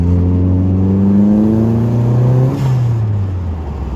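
An Opel Calibra engine revving loudly up close, a strong rising drone that climbs in pitch for a couple of seconds, then drops and eases off into a lower hum.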